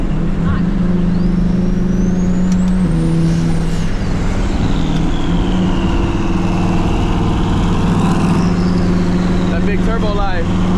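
Turbocharged BMW 335i with an E46 swap rumbling loudly nearby at a private sideshow, a steady deep engine drone with rising and falling revs and turbo whistle, with people talking over it.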